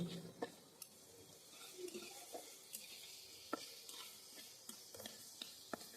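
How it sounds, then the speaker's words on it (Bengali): Tengra fish sizzle faintly as they fry in spice paste and oil, a soft continuous crackle broken by light clicks and taps of a stirring utensil against the pan. "মাছগুলোকে অ্যাড করার পর আমি মশলার সাথে কষিয়ে নিচ্ছি।"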